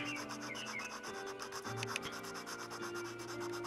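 Continuous rubbing and rasping of sandpaper on a carved wooden feather for a Blue-winged Teal drake wing, steady and close, with no talking.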